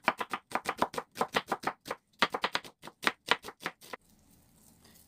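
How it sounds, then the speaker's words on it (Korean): A knife thinly slices half an onion on a cutting board for a Korean chive salad: a fast, steady run of about twenty crisp chops, close and loud, then stopping into near-silence. "양파 반 개를 얇게 썰어주세요."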